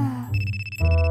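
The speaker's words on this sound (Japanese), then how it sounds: "電話鳴ってるよ。" A mobile phone ringtone chimes loudly and close in an animated comedy sketch, with a short burst of rapid repeating electronic tones.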